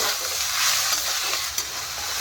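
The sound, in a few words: greens frying in a pan with meat masala and spices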